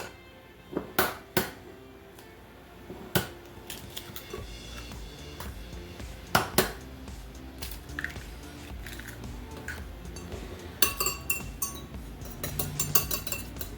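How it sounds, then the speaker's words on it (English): Two eggs being beaten in a bowl for breading eggplant, with a string of sharp utensil clinks and taps against the dish, irregular and close, over faint kitchen background. "and just mix it together. I'm using 2 eggs."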